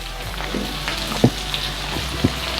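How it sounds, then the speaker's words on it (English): Dried red chili pieces fry in a pan on medium heat with a soft continuous sizzle, punctuated by a couple of faint scraping knocks from stirring. "the dried red chili, That we cut into pieces. add that in. And then let it fry and keep on mixing it."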